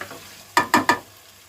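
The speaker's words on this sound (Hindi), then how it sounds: "अब हम इसे अच्छे से भून लेंगे।" Chicken pieces coated in spices for korma fry in a pot, and three quick, close scraping stirs sound in a row before fading back into a quiet sizzle.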